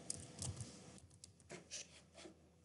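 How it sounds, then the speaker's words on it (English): Quiet clicks of typing on a computer keyboard come in short irregular bursts of keystrokes, close but faint, with no talk over them. "I'm just typing in shot on Bing."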